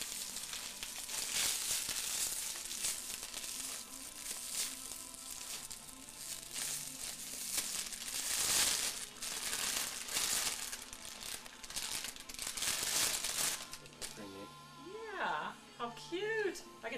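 A wax-dipped cloth item is unwrapped close up, with crinkling and rustling of its wrapping in irregular bursts while people talk throughout.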